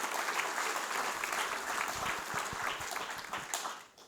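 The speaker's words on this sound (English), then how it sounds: "all of you guys give yourselves a round of applause" An audience at a talk on AgeTech applauds, a dense wash of clapping that rises, holds for a few seconds and fades toward the end.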